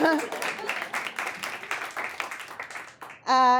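An audience breaks into dense, steady clapping that fills about three seconds before it cuts off and a voice starts speaking close by.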